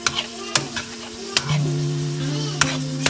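Taco seasoning and water stirred into ground beef cooking in a pan, a loud bubbling sizzle broken by several sharp spoon scrapes and taps at irregular intervals, with no talking.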